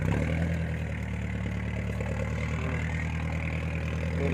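A single-cylinder engine idles close by with a steady, even chugging rumble that holds without change, no voices over it.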